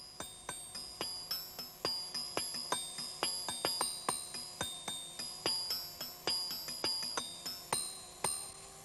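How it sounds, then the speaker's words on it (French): Carillon bells in a clock and watch museum ringing a bright, steady melody of struck notes, each tone decaying quickly with a shimmering ring, evenly paced and clear with no talk. "Le carillon, c'est le chant du marteau sur l'enclume"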